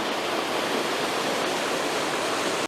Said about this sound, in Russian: Тут даже есть свои маленькие водопады.